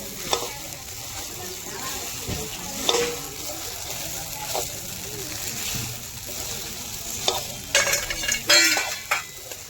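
Sabudana khichdi being stir-fried in a pan, with a steady sizzle and repeated scraping stirs of a spatula, louder clattering strokes near the end; a voice speaks briefly over it.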